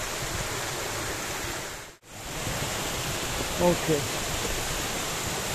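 A hidden waterfall in the Infernaccio gorge roars as a broad, steady rush of falling water, loud and close. The sound cuts out for an instant, and a voice briefly speaks near the end.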